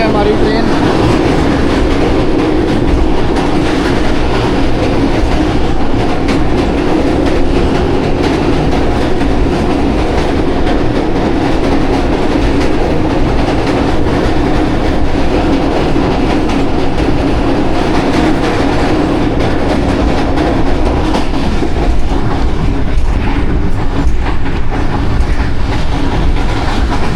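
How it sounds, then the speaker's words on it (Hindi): A passenger train crosses Alexandra Bridge on the Rawalpindi to Lahore run, heard from on board as a loud, steady rumble with continuous wheel clatter that holds without a break throughout. "जी अलेक्जेंड्रा ब्रिज से पास हो रही है हमारी ट्रेन।"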